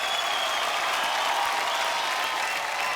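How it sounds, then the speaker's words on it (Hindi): A studio audience at a Hindi comedy talk show breaks into loud, dense applause, a continuous wash of clapping that holds steady for the full three seconds without speech on top. "ओके, एक बार जोरदार तालियां हो जाए आप सबके लिए।"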